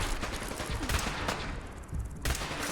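Gunfire in an online shooter game: dense bursts of shots crackle continuously across the short stretch, loud and close, with a sharper volley near the end.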